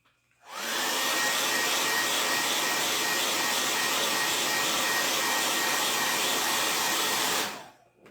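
A hair dryer blows at full power for about seven seconds, drying a chalk-painted craft sign. It is a steady, loud, close rushing whoosh that starts and stops cleanly.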